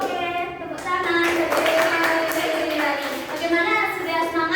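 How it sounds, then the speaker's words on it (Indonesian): Children in a classroom clap their hands in a quick, loose burst of taps, with young voices mixed in at moderate volume. "Oke, tepuk tangan."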